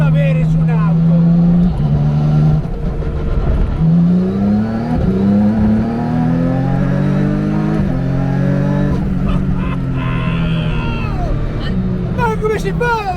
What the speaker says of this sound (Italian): Il rumore della frizione quando sgancia il cambio